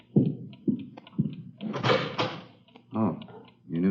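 Door being opened in an old radio drama, a series of dull knocks and thuds followed by a scraping, rattling swing of the door, fairly close with no talk.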